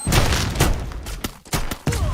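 Grenade blasts and bursts of gunfire in a Free Fire battle royale match, loud dense rapid shots and booms crowding one another across a couple of seconds with no talk over them.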